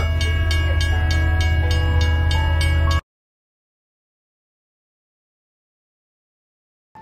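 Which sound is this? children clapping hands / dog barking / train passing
train passing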